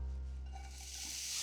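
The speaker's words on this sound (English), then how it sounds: "while this bacon is rendering" Bacon sizzling as it renders in a pan, a steady close hiss of frying fat, continuous and fairly quiet, with no talking.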